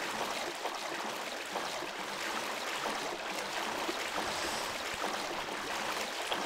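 Flowing river water in the Minecraft-like game MineClone2 makes a steady, dense rushing wash that stays even and close throughout, with no voices.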